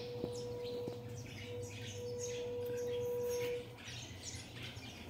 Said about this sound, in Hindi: घर चिड़िया।